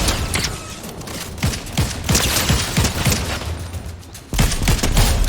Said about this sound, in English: Some solid hits there from the SMG.